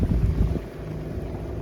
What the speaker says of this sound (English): the wind has kicked up a small little bit. We got 14 knots of wind